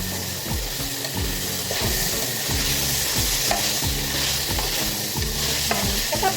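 Garlic sautéing in a pan for pansit makes a dense, constant close-up sizzle over a steady, rhythmically repeating low drone.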